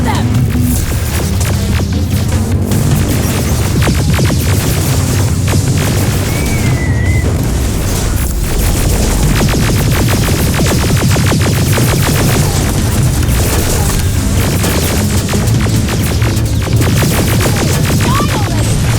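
Grenade blasts in the video game Terminator: Resistance, heavy booming bursts within a constant dense wall of loud combat noise, low rumble throbbing throughout.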